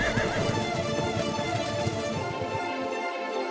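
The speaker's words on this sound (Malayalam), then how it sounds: "ഈ കുതിര കരയുന്ന ശബ്ദം ഇപ്പോ എവിടുന്നാണ് വരുന്നത്?" A horse neighs loudly and close by, one long shaky whinny that trails off over a few seconds, alone with no talking.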